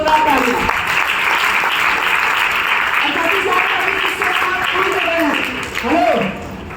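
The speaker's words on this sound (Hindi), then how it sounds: "मिस्टर सुमित पर दादा के लिए भी जोरदार तालियां" Audience applause fills a hall as clapping honours a guest at a stage event, a dense, steady wash of hands with a voice talking over it near the end.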